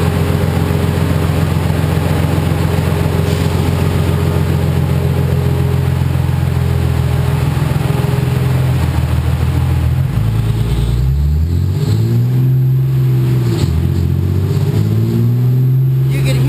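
A tuned car on a chassis dyno, fitted with larger wheels and tires, roars continuously under load, its engine pitch climbing steadily to redline before dropping and wavering as the run winds down; loud and close throughout.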